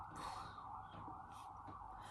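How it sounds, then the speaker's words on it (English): An emergency vehicle siren wails faintly outside, a steady distant wavering tone under quiet room ambience. "Sorry, sirens."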